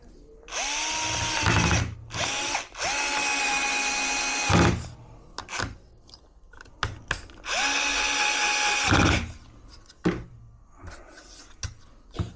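A power screwdriver drives two screws back into a Yamaha MT-15 motorcycle part, with loud whirring bursts of a couple of seconds each, pauses and scattered knocks between runs.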